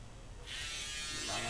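An electric hair clipper switches on with a sudden bright buzz that holds steady and close, after a quiet start under light background noise.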